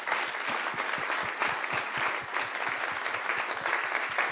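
An audience at a round-table discussion on peasant farming applauds steadily for several seconds, a dense, even patter of many hands at moderate distance.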